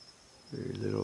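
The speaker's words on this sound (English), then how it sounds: "just a few crickets, some frogs or some sort of animals out in the distance I can hear." Faint, steady cricket chirping sounds in the distance on a night in southwest Florida; a louder low hum swells in halfway through.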